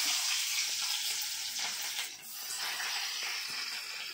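Chopped onions sizzle steadily in hot oil for a brinjal and egg curry, a close, continuous broadband frying hiss with a slight dip midway and no talking.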